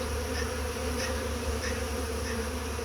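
Honeybees flying in and out of hive boxes with pollen, a steady close buzzing drone with faint rhythmic wingbeat swells and no voices.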